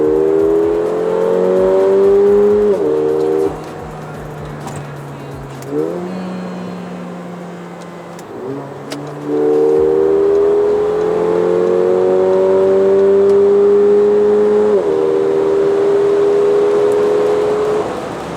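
A 2018 Mercedes-Benz GLA45 AMG engine revs after a two-gear downshift, climbing in loud repeated rising pulls with brief dips between shifts, heard close from inside the car.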